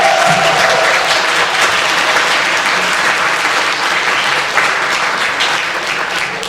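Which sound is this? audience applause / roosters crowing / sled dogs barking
audience applause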